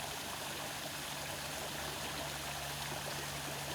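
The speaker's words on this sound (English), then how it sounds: "I can see the water falling down" Water from a fountain falls into its stone bowl outdoors, a soft, steady splashing trickle that continues evenly at low volume with no voices.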